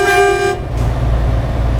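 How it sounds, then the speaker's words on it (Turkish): A truck horn in the Euro Truck Simulator 2 driving game gives one loud, brassy blast of about half a second, then fades into the low, steady rumble of the truck's engine. "korna çalınıyor"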